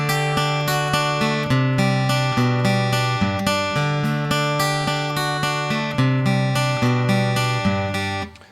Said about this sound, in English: So here's a acoustic guitar with minimal effects.